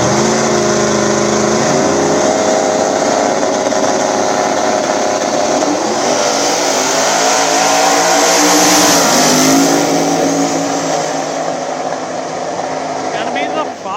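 Turbocharged Fox body and turbocharged S10 drag racing at a track, engines roaring and rising in pitch as they launch and run, with a turbo whine on top and an announcer talking over the noise.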